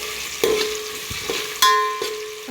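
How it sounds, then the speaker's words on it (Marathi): Onions frying with ginger garlic paste for a mutton biryani make a loud, steady sizzle close by, broken by a few sharp utensil knocks and scrapes against the pan. "कांदा चांगला लाल असा परतून घ्यायचा आहे."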